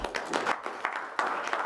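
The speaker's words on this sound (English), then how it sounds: "Give them a big round of applause," An audience at a tribal council meeting applauds, a short, fairly quiet patter of scattered clapping in an indoor room.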